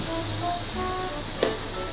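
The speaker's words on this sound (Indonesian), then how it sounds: "ini kita mau masukin mentega 1 sendok." A spoonful of butter sizzles as it melts in a hot pan on a home stove, a steady dense frying hiss throughout with a brief sharper crackle near the middle, close and loud.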